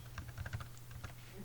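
Quiet typing on a computer keyboard during coding work, with a rapid run of soft key clicks under a steady low hum, heard close and faint.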